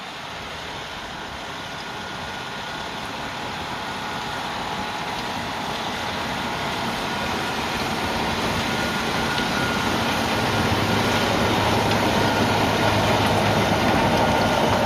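A tractor pulls a seed drill across a farm field, its engine giving a steady, continuous drone that grows gradually louder as it approaches, with no talking.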